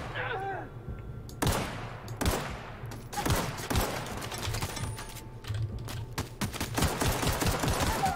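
Rapid bursts of gunfire in The Outer Worlds crack repeatedly over a steady background, with shots clustered in quick volleys throughout.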